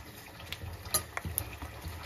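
Mustard seeds, curry leaves and dried red chillies fried as a tempering for sambar, a soft sizzle with scattered pops and a few scraping stirs, fairly quiet and close.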